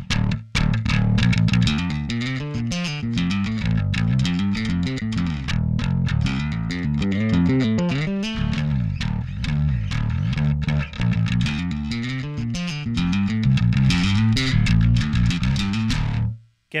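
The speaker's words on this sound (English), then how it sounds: "All the way distorted. Not a lot of body to this bass anyways." Bass guitar played through a Darkglass combo with its distortion turned all the way up, giving a thin, gritty tone; a steady, busy run of fuzzy notes plays loud and close for the whole stretch, with no talking.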